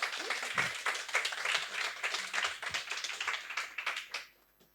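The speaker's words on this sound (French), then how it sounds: "Vous pouvez les applaudir." An audience at a conference on business financing applauds the speakers, with a lively patter of many hands that gradually thins out and fades near the end.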